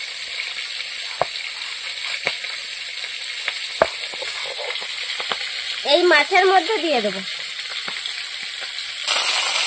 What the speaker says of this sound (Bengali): মাছের মাথাগুলো ভাজা হয়ে গিয়েছে